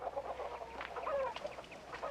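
Hens clucking in a hen house, a steady run of overlapping clucks and short calls close by, with no talk over them.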